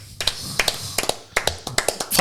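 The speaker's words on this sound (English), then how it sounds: "it's a bit of reverb on the clap" Rapid irregular hand claps in a small room, roughly a dozen sharp close smacks with a short reverberant tail, no talking.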